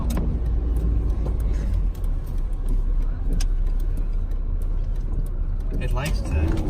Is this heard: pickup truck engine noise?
yes